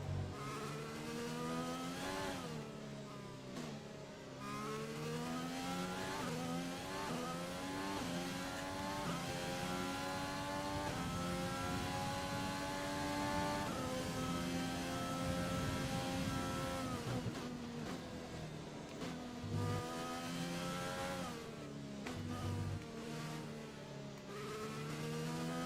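A Formula 1 car in the F1 2020 racing game accelerates hard out of the pit lane. The engine note climbs steeply through repeated gear changes and stays loud and sustained throughout.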